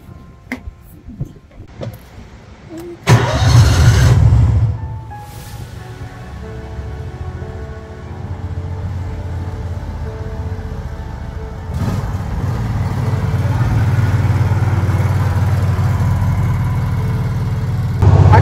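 A farm vehicle on a 42-acre macadamia nut property on Hawaii's Big Island cranks and starts with a loud burst, settles into a close idle, then revs and drives off with a steady rumbling engine.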